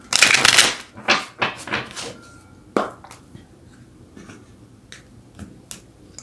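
Tarot cards being shuffled and drawn, a burst of riffling crackle at the start followed by several sharp snaps and softer flicks as cards are handled up close, with no talk.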